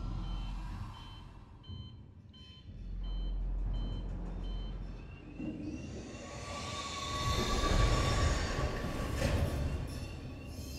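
Transit tram arriving in the Alien: Isolation video game, a loud mechanical rumble and rail-like hum that swells toward the end, with repeating electronic beeps over the top.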